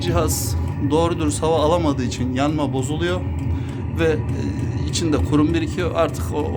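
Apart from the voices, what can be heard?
None of the usual background noises is heard.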